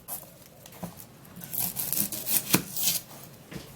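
An onion is grated or cut for a home eyebrow and eyelash growth remedy, giving close, uneven rasping and scraping strokes in irregular bursts that grow busier midway, with no talking.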